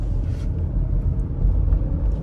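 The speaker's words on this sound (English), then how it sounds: "you could hear that big V8 purring under the hood." A 2017 Jeep Grand Cherokee SRT V8 with its stock exhaust idles with a steady, low rumbling purr that stays even throughout, heard up close with no talking.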